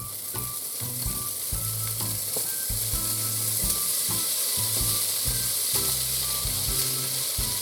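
Sausages sizzle steadily in a pan over high heat on a stove, the start of a Polish potato soup, a constant close frying hiss with occasional stirring under background music.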